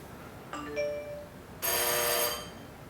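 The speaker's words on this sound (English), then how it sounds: "So that doorbell went off again" A doorbell chimes twice in quick succession, a short two-tone ring followed by a brighter, longer ring, clear and close.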